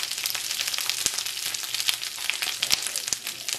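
Asparagus sautéing in a pan with garlic, a bright continuous sizzle dotted with sharp pops and crackles, close and fairly loud, no talking.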